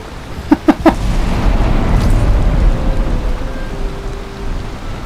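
Thunder rumbles through a steady downpour in the Valheim video game, opening with a few sharp cracks before a long low roll fades beneath continuous rain on surfaces.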